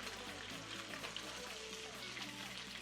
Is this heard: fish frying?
yes